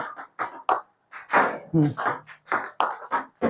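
Table tennis ball struck with backhand loops close to the table, giving light sharp pings in a quick irregular rhythm, mixed in with someone talking over them.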